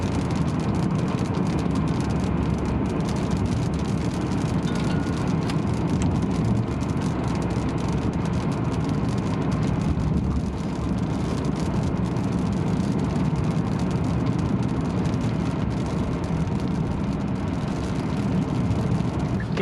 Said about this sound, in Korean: 약간 좀 속도를 올려서 이렇게 주행을 해보면, 일단은 기어 변속 이쪽은 굉장히 부드러운 것 같아요.